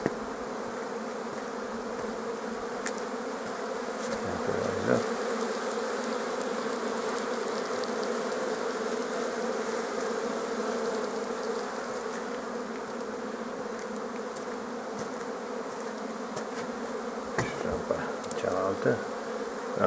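Honey bees hum around the hive entrances and flight ramps of an apiary on a March day, a dense steady drone with individual bees buzzing closer past the microphone now and then, no talking.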